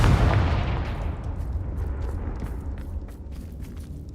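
A Confringo blasting spell goes off in Hogwarts Legacy, a heavy booming burst that hits at once and then trails into a long crackling, rumbling decay with scattered debris pops.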